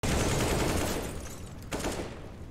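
Rapid automatic gunfire in a competitive online shooter tournament match, a dense loud burst at the start that tapers off, followed by a brief second volley.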